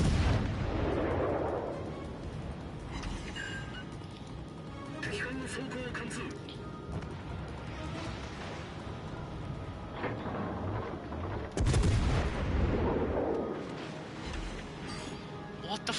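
Battleship main guns firing in the video game World of Warships Legends, aboard the IJN Mutsu: two heavy booming salvos roll out several seconds apart under continuous engine and sea rumble, with someone talking over them.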